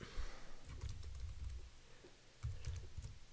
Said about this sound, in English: I'm going to type errand